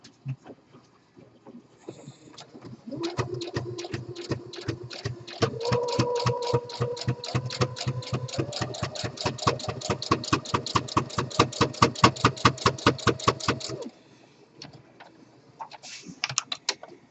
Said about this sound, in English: Let's go ahead and sew that center line.